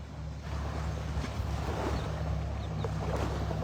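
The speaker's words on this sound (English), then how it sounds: "A little breezy out here this morning, not too bad." Steady breezy wind rushing across Vanderbilt Beach in Naples, Florida on a spring morning, a constant broad roar with low rumbling gusts, loud and close, without talk.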